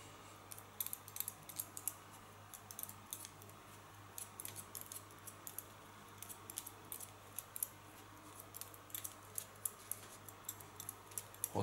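Scissors cut hair during a haircut, guided along a comb at the neckline, with rapid, light, close snips repeating in irregular bursts over a faint steady hum and no speech.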